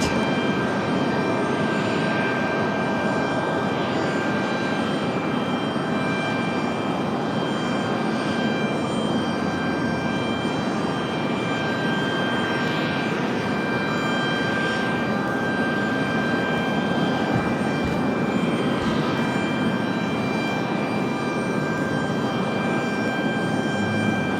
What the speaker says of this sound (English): got Alaska Airlines off over here on 23 right